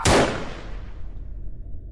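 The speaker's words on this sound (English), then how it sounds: "what was unmistakably a loud single gunshot" A single loud gunshot cracks out at the start and its boom decays into a long rumbling tail.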